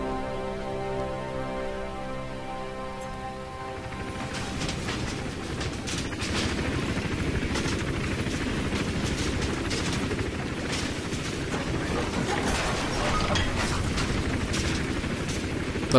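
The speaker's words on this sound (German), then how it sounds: "Der Helikopter." Helicopter in the Hitman Absolution video game, a steady rotor drone that shifts into dense rattling gunfire-like bursts and booms from about four seconds on, continuous and fairly loud with no talk.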